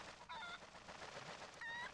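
A chicken in Twilight Princess HD clucks in short, faint bursts near the start and end, with quiet game ambience between.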